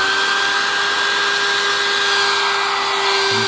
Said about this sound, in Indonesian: Jadi kita langsung tes, nyalakan gerinda.